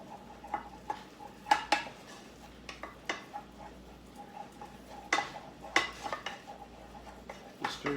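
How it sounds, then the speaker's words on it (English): A spoon scrapes and knocks around a pan as choux pastry dough is stirred over low to medium-low heat, irregular clinks and taps against a quiet background. "Just stir it through with a spoon, keep it moving around."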